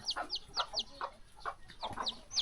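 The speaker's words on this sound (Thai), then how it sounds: "โอ้ลูกไก่พี่น้อง" Chickens and chicks cluck and peep in a rural Thai village, with quick high chirps from the chicks mixed with lower hen clucks, fairly close and continuous.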